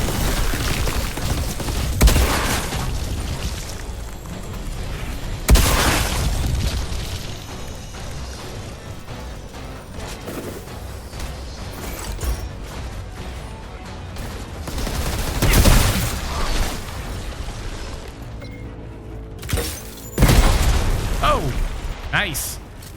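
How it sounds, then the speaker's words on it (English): Gunfire and repeated explosive booms from the shooter game Outriders, including a proximity mine going off, fill a dense, loud battle soundscape with several heavier blasts spaced through it and a voice talking over the action. "You walked into my proximity mine."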